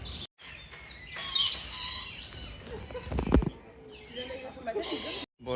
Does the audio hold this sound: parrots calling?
yes